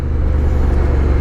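A 2024 Honda Africa Twin DCT ES motorcycle, 102 horsepower, accelerates hard on the German Autobahn in sport mode, a loud continuous low engine drone mixed with heavy wind rush, no voices.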